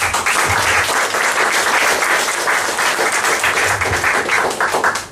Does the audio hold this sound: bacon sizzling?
no